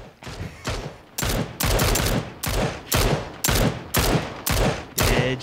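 Bursts of automatic gunfire in PUBG, about eight loud, evenly spaced volleys of rapid shots in a steady rhythm, close and dominant with no talk over them.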